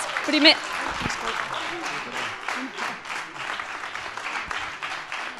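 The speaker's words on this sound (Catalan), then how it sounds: "Un aplaudiment ben fort per aquests alumnes premiats." Applause from a school gala audience for prize-winning secondary students at a Catalan short video festival, with broadband clapping spread steadily through the room and a voice speaking briefly near the start.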